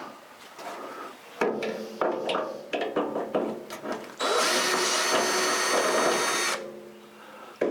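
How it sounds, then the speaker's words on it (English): A handheld drill driver backs big screws out of a car door, with short bursts of whirring and clicking followed by a long, loud, steady spin at close range; no one speaks. "I think I want this drill driver for this."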